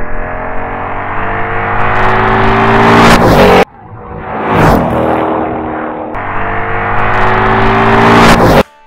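A 1977 Ford Maverick cruising down an empty highway at 65 to 70 mph, its engine and road roar loud and steady, cut into three segments with a brief swell and fade between them.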